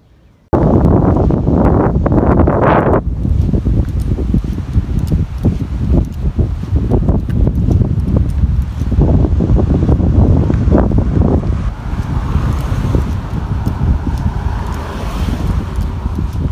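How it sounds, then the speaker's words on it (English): Strong outdoor wind gusts in warm weather buffet the microphone in loud continuous roaring bursts after a brief quiet start, with rustling throughout and no talking. "Very windy today"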